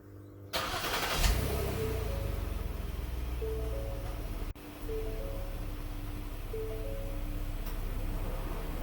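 A Ford Explorer engine cranks briefly and catches, then settles into a steady low idle that continues with a short dip midway.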